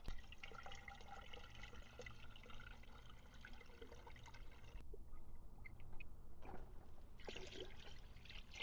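Water runs into a pump sprayer for a car rinseless wash, a steady close trickle and pour that thins briefly near the end before filling resumes.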